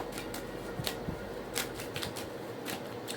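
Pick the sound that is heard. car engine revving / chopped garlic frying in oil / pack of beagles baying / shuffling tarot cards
shuffling tarot cards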